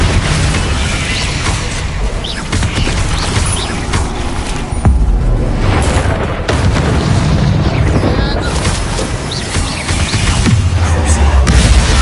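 Loud, continuous booming blast from the Confringo fire spell in Hogwarts Legacy, a dense roaring explosion with heavy low rumble that fills the whole stretch, mixed with game effects.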